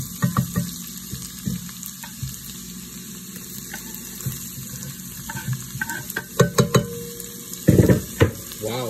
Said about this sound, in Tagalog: gigisa yung ating bawang at sibuyas